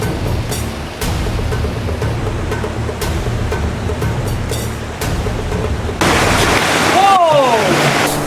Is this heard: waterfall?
yes